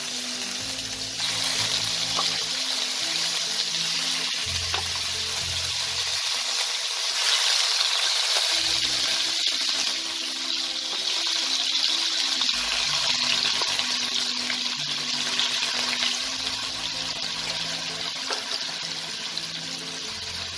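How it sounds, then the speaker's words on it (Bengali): Chicken pieces fry in a kadai of hot white oil with a steady, even hiss that runs unbroken throughout, close and fairly loud, with no talk over it. "এবার এই তেলে আমি একে একে চিকেনের পিসগুলোকে ভেজে নেব।"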